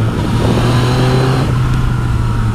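A Yamaha XSR900 motorcycle engine runs steadily with a deep, continuous rumble and a slight rise in revs, loud and close, with no voices.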